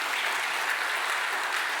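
A church congregation applauding during a Sunday worship service, steady dense clapping that fills the room evenly, with no voices over it.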